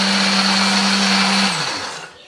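A kitchen blender grinds red chili, shallot, turmeric, pepper and coriander with a little water into a spice paste, a loud steady whirring drone that winds down and stops near the end.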